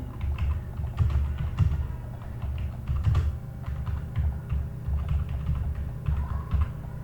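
Code being typed on a computer keyboard while writing JSX, a steady close stream of quick key clicks with irregular bursts and short pauses, alone without talk.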